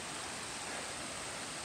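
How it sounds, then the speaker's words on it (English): Small mountain creek on a hiking trail plateau in BC's Erg Mountain, flowing steadily with a close, loud, continuous rushing and gurgling wash and no voices. "a little creek flowing down Erg Mountain."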